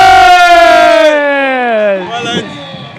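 A rugby crowd roars after an intercept try, a loud, sustained mass cheer with rising whoops that tails off and breaks into scattered shouts near the end.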